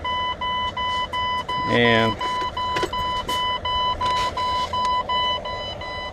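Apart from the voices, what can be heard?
truck low air pressure warning beeping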